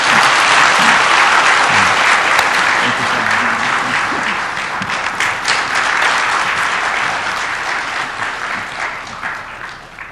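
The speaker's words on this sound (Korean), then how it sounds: "우리 다시 한번 박수 쳐드리겠습니다" Sustained audience applause at a live event, a dense wash of clapping from a crowd that stays loud for about ten seconds and tapers slightly toward the end, with faint voices underneath.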